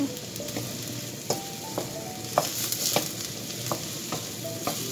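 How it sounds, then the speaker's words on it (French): Food sautés in a pan with a continuous fine sizzle, broken by light ticks and taps of a spoon or spatula moving through it every second or so. "on fait revenir."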